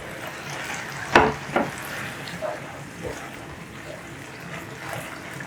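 Pasta goes into a frying pan for carbonara with a couple of sharp clatters and a splash, then a soft, steady sizzle and the scrape of stirring continue underneath.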